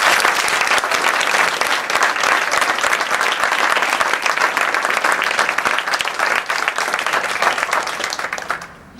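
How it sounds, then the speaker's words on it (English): An audience gives Pierre-Yves Cousteau, speaking in Riga, Latvia, a round of applause: dense, sustained clapping from a full room, loud and even for about nine seconds before tapering off at the end. "I think we can give Pierre a round of applause"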